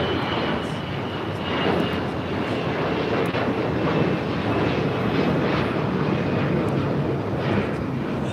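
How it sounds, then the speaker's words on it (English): A Delta Airlines A321 takes off from the south side of LAX, and its engines make a loud, sustained roar that fills the whole stretch without letting up. "Next takeoff here on the south side is Delta Airlines Flight 622 heading to Austin, Texas, A321."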